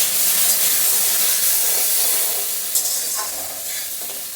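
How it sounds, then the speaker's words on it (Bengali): Chunks of taro and potato fry with salt and turmeric, giving a loud, dense hiss of oil with light stirring. The sizzle eases slightly near the end. "একটু নুন হলুদ দিয়ে ভেজে নিচ্ছি।"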